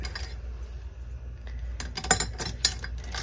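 A cutlery set displayed in a witch's brew mug clinks and rattles as it is handled, with scattered metallic chinks building to a few sharper clatters near the end, close by and no speech.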